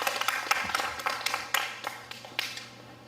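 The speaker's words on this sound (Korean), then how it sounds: "박수로 맞으시기 바랍니다" A handful of people clap in a brief, uneven burst of applause at a community council meeting, welcoming a speaker; individual claps distinct and fairly close, tapering off after a few seconds.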